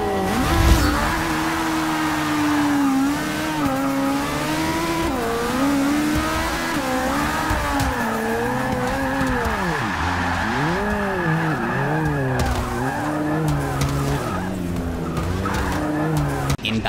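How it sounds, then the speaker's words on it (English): Race cars in Forza 6 roar and skid continuously, engines revving up and down in sweeping pitch with tire squeal, loud and up close throughout, with a brief impact near the start. "In Forza 6, this race escalated quickly."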